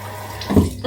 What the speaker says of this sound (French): Bien entendu, avant, on se lave les mains.